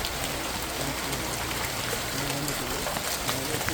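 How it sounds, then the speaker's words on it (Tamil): Heavy rain falls steadily, a dense, even hiss of drops striking surfaces that fills the whole stretch, close and continuous with no distinct voices. "மழையும் நல்லா பெஞ்சு கொண்டு இருக்குது"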